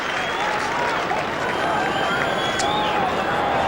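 Large AFL football crowd at Subiaco stadium, a dense, steady roar of cheering and applause filling the whole stretch, with a commentator talking over it.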